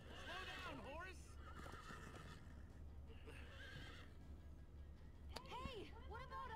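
A horse in the video game Minecraft: Story Mode neighs loudly several times, its whinnies rising and falling, over a steady low rumble with voices talking in between.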